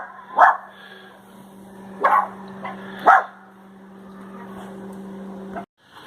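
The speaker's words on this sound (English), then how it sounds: "And there goes the dogs." Dogs bark nearby in three loud yaps over a steady mechanical hum, followed by a smaller yip, with no talking.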